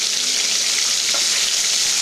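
Bhola fish pieces sizzle steadily in hot oil as they are flipped one at a time, a continuous close crackling fry with faint stirring touches.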